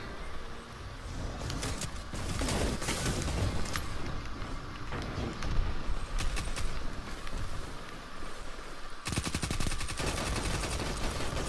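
Sidearm fire in the first-person shooter game Destiny: loud, rapid bursts of gunshots, some in quick succession like sustained fire, with dense repeated shots toward the end and no talking.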